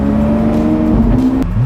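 A rally car's engine drones loudly and close, its pitch climbing steadily as it accelerates, then drops suddenly as it shifts gear.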